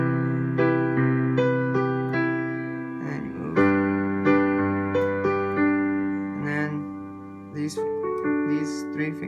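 Piano plays a song slowly, sustained chords struck one after another at an unhurried pace with ringing decay, close and clear with no talking.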